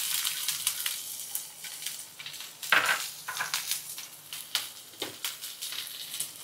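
Chopped garlic and onion half-frying in a pan for white pasta, a quiet, close sizzle broken by intermittent scrapes and clinks of a spoon stirring against the pan, with no talking.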